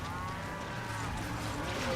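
A cow in the car-combat game Carmageddon: Max Damage lets out a low, drawn-out moo that carries faintly over a steady background rumble.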